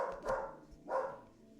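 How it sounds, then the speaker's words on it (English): A small, excitable house dog barks twice at someone outside a window, two distinct yaps close by with a brief pause between them. "My dog was a little Looney Tune barking at somebody outside the window."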